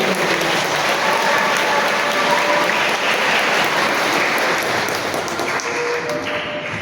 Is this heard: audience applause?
yes